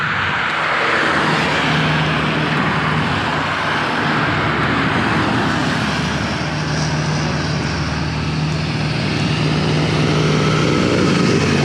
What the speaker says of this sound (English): And now we've got a tractor.